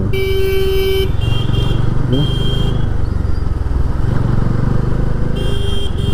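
Loud, dense road traffic near Salur on a motorcycle ride, with engines roaring and several car and motorcycle horns honking in overlapping bursts, some long and some short.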